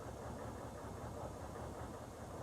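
HMMWV engine idling steadily during fuel system troubleshooting, a continuous low rumbling churn with a faint knocking texture, fairly quiet and alone without talk.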